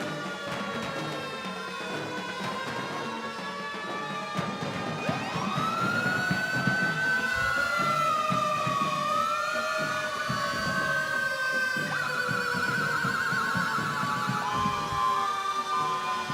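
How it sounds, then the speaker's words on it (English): Fire truck sirens wail during a parade, the historical apparatus of a fire society passing by. Several rising and falling tones overlap and grow louder over the rumble of engines and street noise. "They're kind of being drowned out by the fire trucks."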